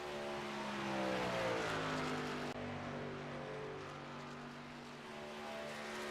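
A lone NASCAR truck runs practice laps at Michigan, its engine note rising and falling in steady harmonic tones as it passes, fairly close and without talk.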